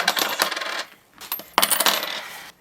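Coins dropping and clattering out of a cash envelope, in two loud bursts of jingling metal separated by a short pause, close up with no talking.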